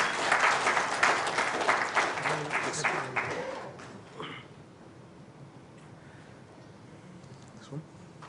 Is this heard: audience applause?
yes